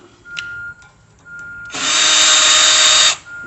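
Steady whir of a power drill backing screws out of a Char-Broil Performance Series four-burner gas grill during assembly, a short burst then a louder sustained run of about a second and a half, close up.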